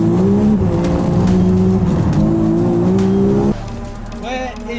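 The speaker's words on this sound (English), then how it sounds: "He keeps spinning tires all the way to 5th gear." A 900-horsepower Japanese car running 2 bar of boost roars hard through the gears, its tires squealing as they spin. The engine pitch climbs loudly and then cuts off abruptly near the end.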